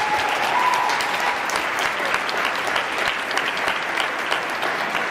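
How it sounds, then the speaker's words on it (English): A conference audience in Germany claps steadily and loudly throughout, a dense, continuous applause with no break. "I think she deserves a big applause as well"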